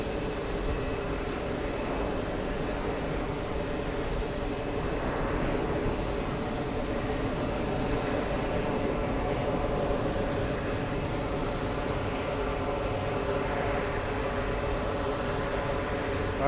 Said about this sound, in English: It's the plane that sounds like a train for some reason.